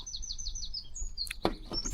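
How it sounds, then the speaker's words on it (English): Small birds sing outdoors on a fine day, with a steady run of quick high chirps and tweets followed by a few sharper, louder calls close by. "A lot of bird song, and yeah, beautiful day."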